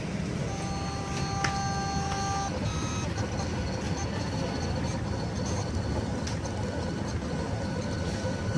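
A Jinka Pro 721 LED cutting plotter cuts Oracal vinyl, giving a steady motor hum with a few short electronic beeps near the start, close and moderately loud.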